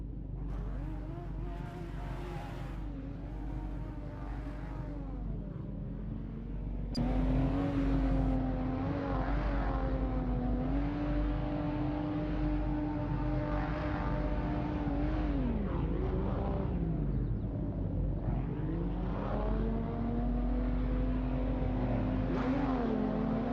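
Race car engines in a sim racing game at the Red Bull Ring, a steady droning roar with rising and falling revs as cars line up and accelerate, continuous and moderately loud throughout.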